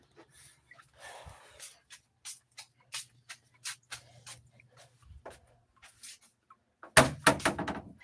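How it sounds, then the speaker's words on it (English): Kitchen cabinet doors closing in a quiet room, a string of soft thunks and knocks spread across the clip, ending in a louder cluster of bangs near the end. "Let me close these cabinets."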